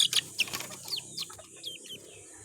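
A young male chick peeping in bright high chirps, with a few quick clucky calls and some faint rustling nearby, no talk.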